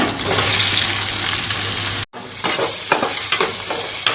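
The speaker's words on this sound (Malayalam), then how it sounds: "ഇനി സവാളയാണ് ഞാൻ ഇതിലേക്ക് ഇടുന്നേ" Sliced onions dropping into hot oil, already used for frying chicken, for Malabar chicken biryani: a loud close sizzle, a brief break, then crackling frying with scraping stirs.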